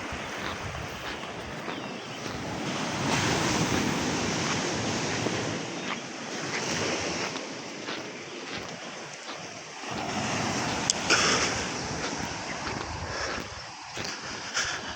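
Ocean surf at Virgin Beach in Karangasem, Bali, near large coral rocks, makes a steady broad wash of waves rising and falling, with gusty wind buffeting the microphone throughout.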